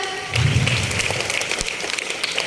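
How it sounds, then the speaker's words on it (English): A school audience claps in a round of applause, a dense burst of many hands that starts abruptly and carries on steadily at moderate loudness, with no talking over it. "celebrate their achievement with a big round of applause"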